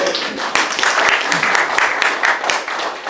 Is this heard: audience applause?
yes